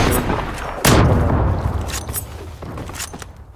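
Gunfire in the online shooter game Zula during a competitive match, with a sharp loud report near the one-second mark followed by scattered fainter shots and booming rumble over a busy battle din.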